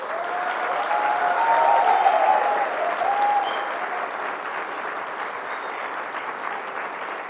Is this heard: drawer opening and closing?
no